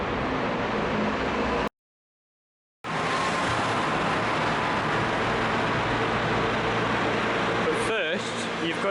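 Steady roar of busy road traffic echoing inside a tunnel in Genoa, a dense continuous wash of engines and tyres broken by a brief dropout, with a louder passing vehicle near the end.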